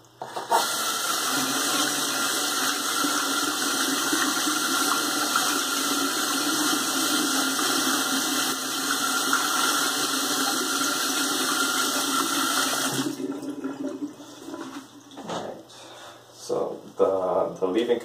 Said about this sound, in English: Now I'm going to wash my hands again.